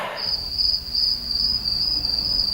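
Crickets as a sound effect in a Batman audio drama: one steady, high, shrill trill that holds without a break, alone over a low background hum.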